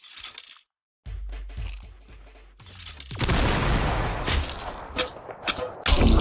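Golden musket shots ring out in a video game, a few sharp cracks and booms spread over several seconds, with a denser, noisier stretch of gunfire toward the end.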